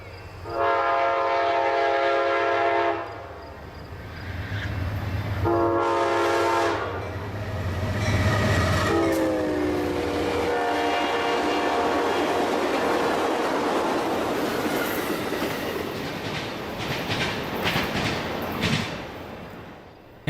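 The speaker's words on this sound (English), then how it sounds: "we caught the train at track speed in Parma, Michigan, as it made its way to Jackson." The Amtrak 40th anniversary exhibit train passes at track speed through Parma, Michigan. Loud horn blasts sound repeatedly as it approaches, followed by a rushing roar and the rattle of wheels over rails as the cars go by close at hand.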